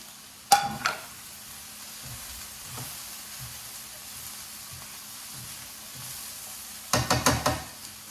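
Pork and peppers fry in a pan under a steady low sizzle, with a loud clatter of the utensil against the pan at the start and a quick burst of knocks near the end.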